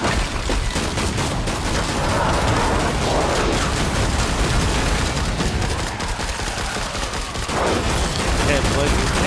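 Rapid bursts of gunfire from the video game Killing Floor 2 fill the whole stretch, dense and continuous, with weapon blasts layered over chaotic game action and players talking throughout.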